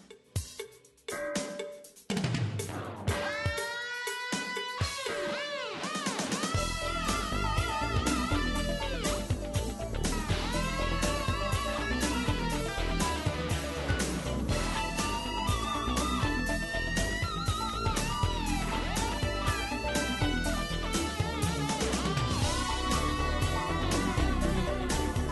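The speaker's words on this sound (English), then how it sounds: "this does lead to one of the coolest moments in any game soundtrack ever" Rock-styled Sonic CD video game soundtrack music with guitar builds from sparse opening notes into a dense, loud, continuous arrangement that runs steadily to the end, with no talking.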